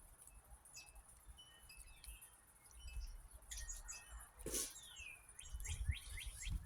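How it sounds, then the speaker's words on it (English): Several birds chirp and tweet outdoors in a quiet rural spot, short bright calls scattered across the clip over faint low rumble, with a few closer, louder notes toward the end. "There's tons of birds around."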